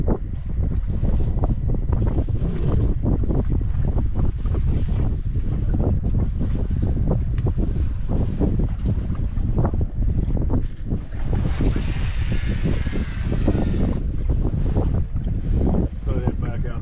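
Steady, loud wind buffets the microphone throughout while fishing from a boat on cold open water, a constant rough roar with gusts and a brief lull near the end.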